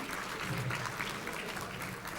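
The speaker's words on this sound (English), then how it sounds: "We would request the audience and all the parents here to applaud the people" Dense, steady applause from an audience, many hands clapping continuously throughout, moderately loud with no clear speech.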